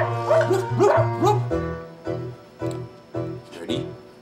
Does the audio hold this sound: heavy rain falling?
no